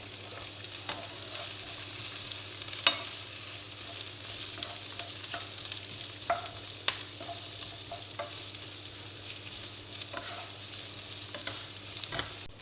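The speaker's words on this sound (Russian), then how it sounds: "Пока у нас обжаривается лук" Onion fries in a pan for French-style baked pork with mushrooms and cheese, giving a steady close sizzle throughout with occasional soft scrapes and clicks of stirring, and no talking.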